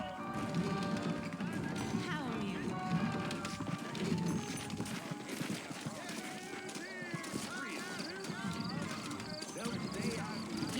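Horse hooves clip-clop over ground in the Red Dead Redemption video game, a steady trotting rhythm mixed with game ambience, music and character dialogue spoken over it.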